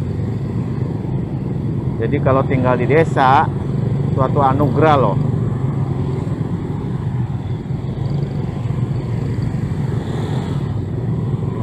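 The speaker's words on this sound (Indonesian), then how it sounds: "Beginilah teman-teman, macet di Jakarta." Engine drone and rumble from a traffic jam on a Jakarta street, with motorbike and car noise humming steadily close by while someone talks briefly over it.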